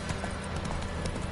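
A horse's hooves clip-clop quickly in a PS4 video game, a brief, steady run of close hoofbeats over dense game noise.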